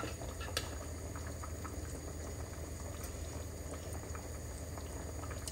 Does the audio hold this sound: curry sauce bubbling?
yes